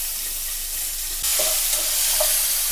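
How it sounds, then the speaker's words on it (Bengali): Flat beans and green beans fry in hot oil, a steady bright sizzle that grows louder partway through, with a few soft clinks of stirring. "এখন সিম আর বিনসটা ভেজে নেব।"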